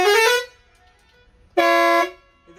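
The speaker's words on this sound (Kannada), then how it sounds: "ಮ್ಯೂಸಿಕಲ್ ಹಾರ್ನ್ ಅಂತ ಹೇಳ್ಬೋದು." A bus's loud musical horn blares twice, each blast a bright, tonal, multi-note honk lasting about half a second with a silent gap between, heard close and clear.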